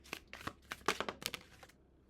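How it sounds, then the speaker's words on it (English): Tarot cards are shuffled and riffled in a handful of quick, close, crisp flicks over about two seconds, alone in a quiet room. "My cards don't want to shuffle."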